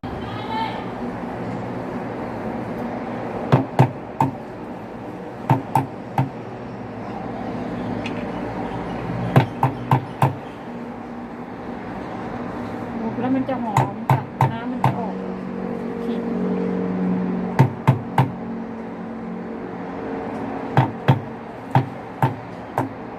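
Sharp thuds of ginger being crushed for a hot ginger drink come in quick clusters of three or four blows, repeated throughout while someone talks steadily.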